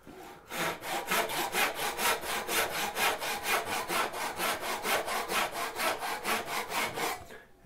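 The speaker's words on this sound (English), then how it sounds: "I like to get good at sawing right on the line" A hand saw cuts wood for a mid half lap joint in rapid, even back-and-forth strokes, about three per second, close and clear with no talking.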